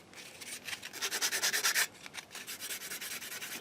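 Smooth plastic parts from a 1/32 scale T-800 endoskeleton model kit are scratched in quick, close, rhythmic strokes. The strokes form a short burst that peaks midway and then continues more softly.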